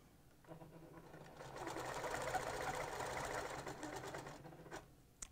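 A sewing machine stitches fabric for a small accessory, running in a steady rapid whir for about four seconds at moderate volume, starting and stopping cleanly with no talking.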